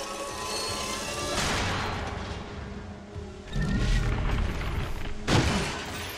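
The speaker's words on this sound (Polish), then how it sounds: "Te wybuchy" Deep booming explosions from the Dead Space Remake video game, a rumbling blast mid-way followed by another sharp, heavy one near the end, with no talk over them.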